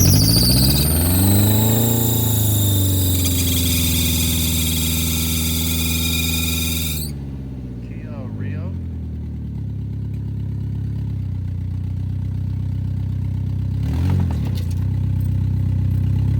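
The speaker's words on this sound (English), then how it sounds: "Sounds like an exhaust leak." A car engine with an exhaust leak idles loudly with a whining, squealing tone that cuts off abruptly, leaving a lower rough idle rumble with a brief rattle later, at a police vehicle auction.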